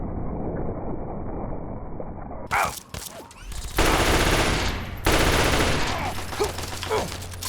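Rapid gunfire in a video game, with bursts of shots rattling out in quick succession, loud and close, broken by short gaps and mixed with rushing noise.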